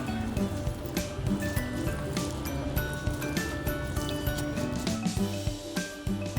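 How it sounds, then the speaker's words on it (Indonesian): Water is poured evenly over vermicompost worm bedding, with paper and feed scraps laid on top in a container. It makes a continuous close patter of splashes and drips, like rain on a soft surface, for several seconds. "saya kasih air. Siram secara merata."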